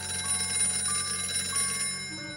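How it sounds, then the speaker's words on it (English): A shrill, continuous ringing like an old home telephone bell, steady and fairly loud for a couple of seconds, with no one talking. "A shrill ringing interrupts the still hominess of the scene."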